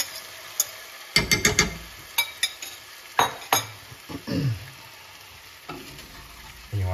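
Eggs cooking in a hot pan on low heat with a soft sizzle underneath, punctuated by repeated clinks and scrapes of a utensil stirring them, irregular and close.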